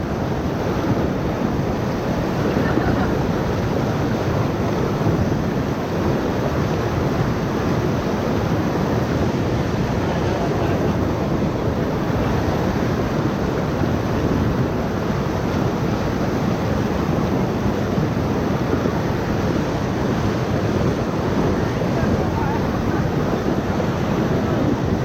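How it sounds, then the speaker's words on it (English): Rushing whitewater of the Upper Ocoee River heard from a raft, a loud continuous roar of churning water mixed with wind buffeting the microphone, steady for the whole stretch with no talking. "River's got some power, doesn't it?"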